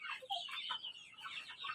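A Tiger breed hen clucks close by, giving a quick run of short, soft clucks and chirpy murmurs over quiet background.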